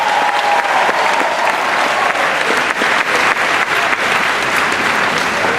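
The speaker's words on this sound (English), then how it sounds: "So one more round of applause for this crop of players." A crowd at a 2019 UA basketball game event claps and cheers in loud, dense, sustained applause from start to finish.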